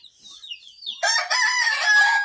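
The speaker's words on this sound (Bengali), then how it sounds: "দেখুন বন্ধুরা, অনেক বড় ব্রয়লার।" Large broiler chickens raised at home make a short, loud crow and clucking calls right up close. A quieter chirp comes first, then the call sounds strong and nearby for about a second.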